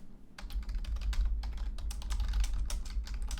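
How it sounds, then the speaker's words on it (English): Rapid clattering keystrokes on a computer keyboard, close and steady for a few seconds over a low background hum, with no one talking. "Sorry about the typing."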